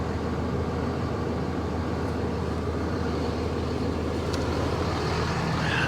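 The Cummins diesel in a RAM 3500 stick-shift pickup idles with a steady, loud, unbroken rumble that seems slightly rough, as if it is down a cylinder.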